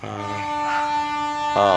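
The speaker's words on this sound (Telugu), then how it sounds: "మన దగ్గరలో ట్రైన్ కూడా వస్తుంది" A train horn blares loud and steady at close range near Armoor railway station, with a second blast near the end.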